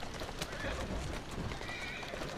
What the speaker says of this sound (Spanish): vamos a robar este caballo y nos vamos para adelante